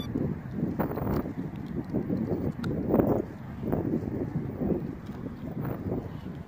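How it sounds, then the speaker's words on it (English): Steady wind buffeting the microphone outdoors, a low rumbling roar with gusty surges that continues throughout, loud and close. "Really windy out here today too."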